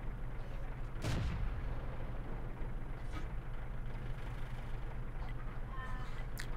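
Tank cannon fire in World of Tanks from a Type T-34: one sharp, booming shot near the start, with fainter impacts later over a low engine hum.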